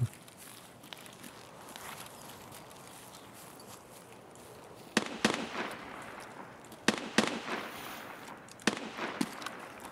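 Gunshots in the video game Escape from Tarkov crack out in bursts over a steady low rumble, several quick shots clustered together, fairly loud and punchy.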